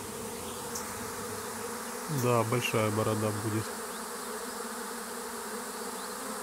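A swarm of honey bees buzzes steadily around a beekeeper, with a voice speaking briefly over the humming drone in the middle.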